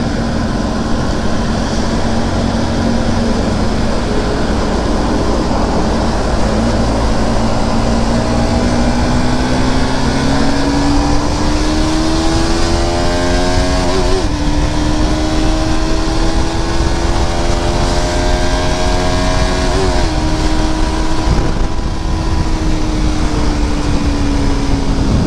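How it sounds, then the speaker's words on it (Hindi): Heavy road traffic passes on a highway under construction, a steady loud engine roar with rising and falling engine tones running continuously throughout, with no talk. "देख सकते हो कितना हेवी ट्रैफिक है"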